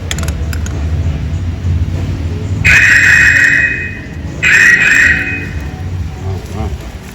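Pliers grip the large spring hose clamp on the main radiator hose of a 2013 Dodge Journey 3.6 during thermostat housing work, giving two sustained creaking, squeaking bursts of a second or so each over low shop background.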